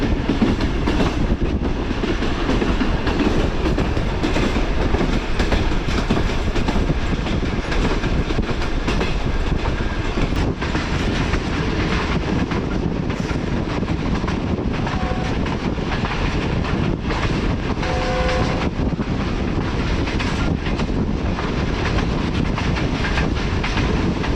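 The Mianwali Express rolls along the rails from Lahore toward Mianwali and Mari Indus, a loud, continuous rumble with rhythmic clickety-clack of wheels over joints and a faint squeal, heard from on board.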